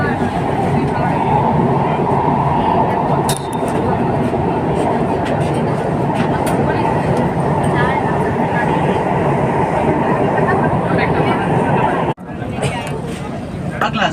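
A Kolkata Metro train running under the Ganges toward Howrah, a loud continuous underground roar and rattle of the carriage with passengers talking over it.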